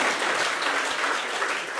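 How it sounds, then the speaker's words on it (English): A room full of guests at a wedding reception breaks into a round of applause, a brief, dense burst of steady clapping with no voices over it. "Round of applause."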